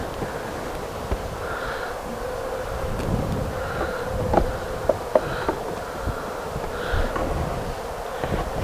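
A newly hived honeybee swarm buzzing steadily at the hive, a low continuous drone with occasional faint clicks and handling bumps, no talking.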